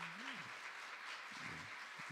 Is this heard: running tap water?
no